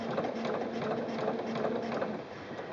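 A domestic sewing machine stitching across a fabric leader before the main fabric is fed in, a steady close whirring mechanical drone with a fast rattling stitch rhythm that holds constant throughout.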